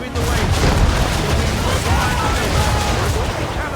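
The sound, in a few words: cannon fire from a video game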